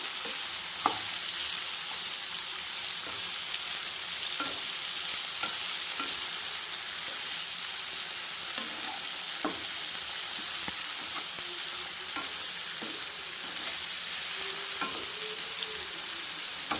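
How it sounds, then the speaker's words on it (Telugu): Ingredients for ridge gourd chutney with green chillies frying in a pan under a steady hiss of sizzling, with occasional spatula scrapes and knocks as they are mixed, continuous and close, with no voices. "అన్నీ మంచిగా మళ్ళీ ఒకసారి మిక్స్ చేసుకోవాలి"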